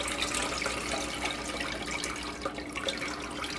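Homemade butter is washed and kneaded in ice cold water, giving a continuous close-up splashing and sloshing of water in a bowl with no talk.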